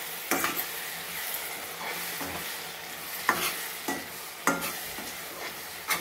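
Prawn curry simmers in a pan with a soft continuous sizzle, broken by several sharp scraping stirs of a spoon against the pan at irregular intervals.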